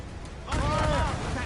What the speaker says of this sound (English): Ready those mortars, Shay.